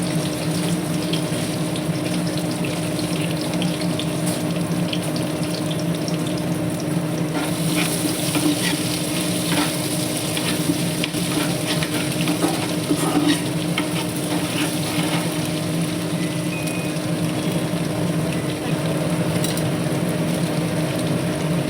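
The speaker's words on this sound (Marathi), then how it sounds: "आता अद्रक लसूणची पेस्ट टाकते." Ginger garlic paste sizzles steadily in hot oil with cumin seeds in a home kitchen, a continuous close frying hiss with faint stirring clinks and no talk.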